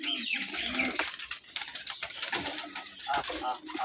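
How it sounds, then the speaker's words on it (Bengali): Rajshahi Giribaz pigeons coo amid busy clatter and nearby voices talking, the sounds overlapping in a cluttered, close-up mix. "সবগুলো কবুতর খাওয়ার পাগল"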